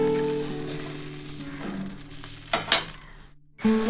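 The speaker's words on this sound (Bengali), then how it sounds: "এবার ভালো করে মশলাটার সাথে কষাতে হবে।" A spice paste for a potato and egg curry with capsicum sizzles steadily in a pan while a spoon stirs it, scraping audibly a few times near the end before a brief pause.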